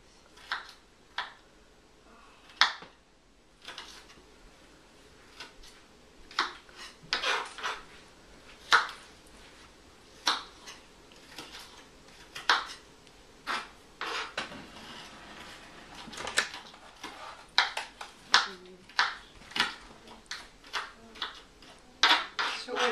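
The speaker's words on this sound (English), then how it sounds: "I just want to chop these into very small pieces." A knife chops raw onions into small pieces on a cutting board in a home kitchen, with sharp, fairly regular taps up close that speed up in places. Faint background noise runs underneath.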